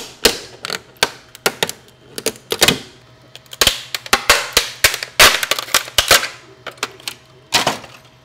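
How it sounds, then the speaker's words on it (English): Supports are snapped off a 3D-printed plastic Black Power Ranger cosplay helmet, making a quick series of sharp, loud cracks and snaps close up, irregularly spaced with brief gaps. "we went straight into breaking off the supports, which was actually quite satisfying"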